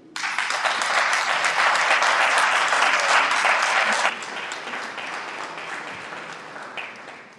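An audience at a World Pharmacists' Day celebration applauds pharmacist Ralph Edmond. The clapping is loud and dense, then drops suddenly to a softer, thinning patter that fades gradually toward the end.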